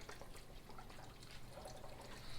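Chicken broth from a 32-ounce box is poured into a pot, a faint continuous liquid trickle and splash lasting a couple of seconds, quiet and close, with no talking over it.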